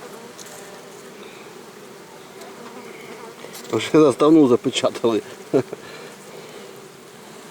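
A steady low buzz of many bees at a hive in May hums throughout, with a person speaking briefly over it partway through.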